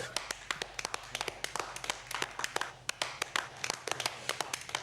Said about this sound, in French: Je vous demande à tous d'applaudir très fort Queen